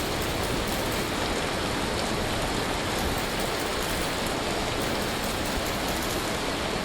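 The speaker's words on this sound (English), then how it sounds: "And so you can see here the hail is falling." Hail falling in the survival game Vintage Story, a dense, constant pattering roar like heavy rain, steady and enveloping with no pauses.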